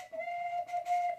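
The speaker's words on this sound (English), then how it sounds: "I just drilled a hole through the stick and put a plug in the end, and you cut a tiny little flat surface on the top of this plug." A handmade wooden folk whistle cut from a birch branch, with a drilled bore, plug and small ramp, sounds one steady, shrill held note, briefly broken partway through, close and fairly loud with no talking.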